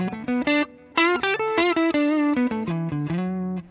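Clean lead electric guitar through a Fractal FM3 with an Esoteric RCB boost, playing a lively run of distinct melodic notes with short gaps, upfront and alone.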